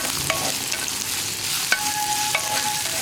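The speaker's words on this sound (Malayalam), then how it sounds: "ഈ സവോള ഒന്ന് ലൈറ്റായിട്ട് കളർ ചേഞ്ചായി വരുന്നത് വരെ ഒന്ന് ഇളക്കി കൊടുക്കുക" Sliced onion is stirred and fried in a pan until lightly coloured, for a potato and moringa-leaf stir-fry. Soft sizzling is broken by a few sharp spatula taps against the pan, close and clear, with no voices.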